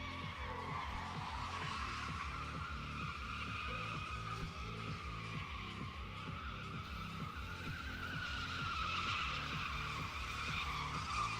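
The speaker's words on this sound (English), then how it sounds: "LT1 burnouts with fire in the background" An LT1-powered car does sustained burnouts in a drift pit, its engine droning steadily under a continuous loud tire squeal and rasping skid that holds for several seconds without pause.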